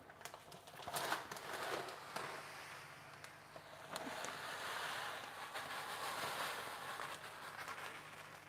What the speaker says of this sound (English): So let's just pour that in straight away.